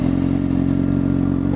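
A Honda CBR 600 RR sport motorcycle engine idles steadily and close up, a loud, even mechanical drone with no speech, swelling slightly right at the end.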